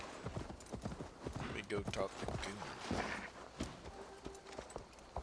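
Horse hooves clip-clop in Assassin's Creed Valhalla as a mount moves along at a steady gait, fairly quiet rhythmic thuds with a voice talking over them partway through.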